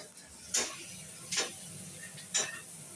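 Onions fry gently in oil with a faint, steady sizzle, broken by three evenly spaced spatula scrapes across the pan.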